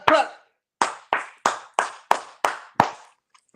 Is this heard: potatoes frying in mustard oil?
no